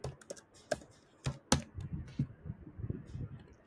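HTML code is tapped out on a computer keyboard in short, scattered keystrokes, some sharper and louder, in an otherwise quiet room.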